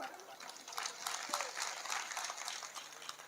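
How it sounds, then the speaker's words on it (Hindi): An audience at a poetry gathering held during a Ramlila festival claps in sustained, moderately loud applause filling the whole moment, many hands blending into a dense patter. "इस छंद पे बजाई गई आपकी एक एक ताली मेरे लिए ठीक वैसा ही काम करेगी जैसा बाबा के लिए हनीप्रीत किया करती थी।"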